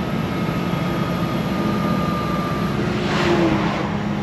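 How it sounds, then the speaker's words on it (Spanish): Steady engine drone inside the cab of an automatic Kenworth T680 truck with an 18-speed transmission, hauling a load, as the engine brake holds a constant low rumble with a faint whine, rising slightly near the end. "Frenito de motor, muy bien."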